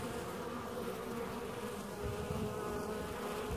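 Honeybees drone at an open hive on a warm day, a dense, continuous buzz that holds steady at a close, even level with no talking.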